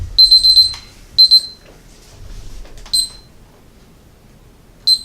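A kitchen timer beeps loudly in short bursts of rapid high-pitched pips, pausing between rounds, with faint room noise in the gaps.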